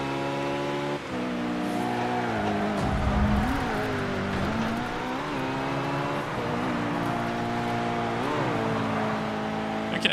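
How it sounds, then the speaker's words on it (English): A race car engine in TOCA Race Driver 3 fires up and drives, its harmonic engine tone rising and falling through gear changes, loud and steady with a brief low rumble at startup. "I finally figured out how to start my car."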